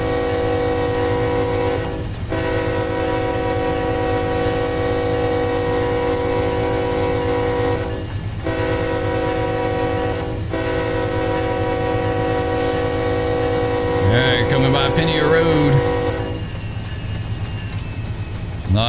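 Heavy 10,000-ton phosphate freight train rolling through the Georgia countryside in Run 8 Train Simulator, a steady loud rumble with a sustained chorded horn blast, brief gaps, and a voice speaking briefly near the end.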